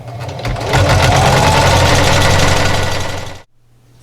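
A sewing machine stitches a pie plate coozie, a loud, close, fast mechanical rattle with a humming motor that ramps up, runs steadily for about three seconds, then stops abruptly, leaving a faint low hum.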